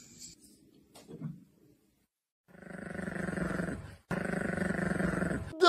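A dog growls low and rumbling in two long, steady stretches close by, broken by a short gap, after a few quiet scuffling sounds.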